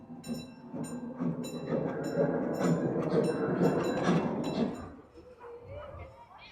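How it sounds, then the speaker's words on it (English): An amusement park ride train at Europa-Park rumbles in with rhythmic clacking and metallic squeals, growing loud then fading, while people chatter nearby. "Oh, here comes the train."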